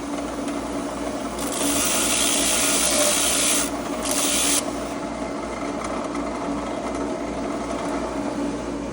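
A grinding stone wheel spins under steady motor drone while a metal tool is pressed for fine sharpening, giving a hissing, rasping scrape that swells for a few seconds, breaks briefly, then returns before the motor runs on alone.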